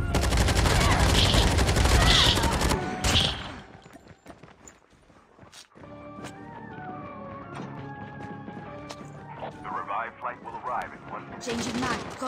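Gunfire in the Call of Duty Mobile battle royale game: a dense loud burst of rapid automatic shots, then quieter scattered shots and footsteps, with voices talking and another heavy burst at the end.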